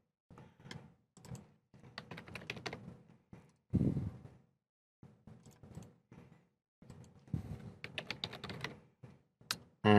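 Keys clatter on a computer keyboard while a folder is named, quick irregular bursts of close, crisp typing with short pauses between words and a heavier thump partway through.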